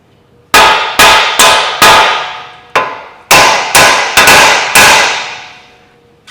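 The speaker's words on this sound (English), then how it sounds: "I'm just going to run the nut back on there just in case I go a bit wild, but I'm just going to give this a nice tap on here." A hammer strikes a nut threaded onto a car part during engine removal on a Kia Sedona Carnival, nine loud metallic blows landing in two quick groups, each blow ringing and fading.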